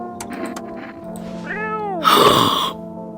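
A cat meowing in the video game No I'm Not A Human, a drawn-out rising and falling meow followed by a louder, brighter cry, heard over steady background music.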